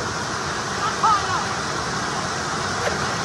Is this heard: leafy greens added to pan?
no